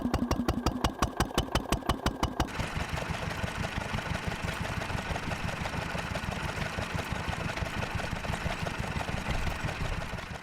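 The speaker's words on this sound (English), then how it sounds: "If I put a constant heavy load on, this is the tone of the engine will change." A steam traction engine under a constant heavy load, first chuffing in sharp, evenly spaced beats, then settling into a denser, faster, steady rhythmic thrum, close and loud with no talking.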